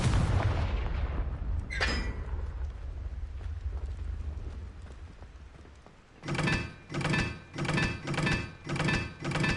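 A Confringo spell explodes in Hogwarts Legacy with a loud burst and a short ringing crack, then after a quieter stretch comes a rapid series of five rhythmic booming impacts.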